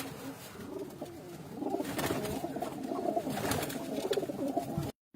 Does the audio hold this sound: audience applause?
no